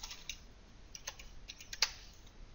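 Quiet, irregular clicks of computer keyboard typing during an Android database coding session, scattered keystrokes in short bursts with one sharper tap, faint and close.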